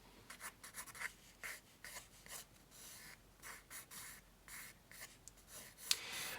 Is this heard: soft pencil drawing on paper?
yes